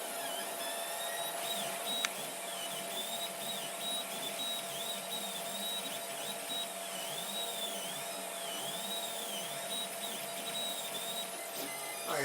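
A 3D printer at work on a medium-sized print, its frame lit by extra rows of lights, gives a steady mechanical whir with warbling, stepping motor tones that rise and fall continuously throughout.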